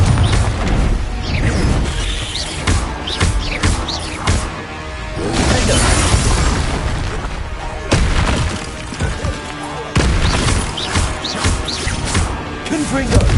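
Confringo fire-blast spells explode repeatedly in the Hogwarts Legacy video game, with loud crashing booms and whooshes layered over busy battle sounds and music, near and forceful.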